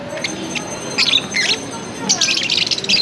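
Short bursts of high sparrow chirps, several birds twittering in quick scattered clusters, fairly close amid a faint background hum, at Santo Niño Market in Marikina.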